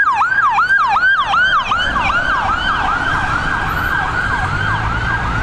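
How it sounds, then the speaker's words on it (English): A loud emergency siren wails nearby at Dublin Airport in rapid repeating yelps, then shifts to slower sweeping tones over rumbling traffic. "Could have turned his siren off so he didn't deafen all my viewers"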